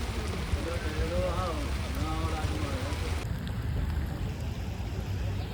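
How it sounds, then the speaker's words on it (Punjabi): Heavy rain roars in a constant wash over the Dussehra ground in Hoshiarpur, with voices talking briefly in the first few seconds underneath. "ਨਾਲੋਂ ਨਾਲ ਮੀਂਹ ਵੀ ਪੈ ਰਿਹਾ ਆ"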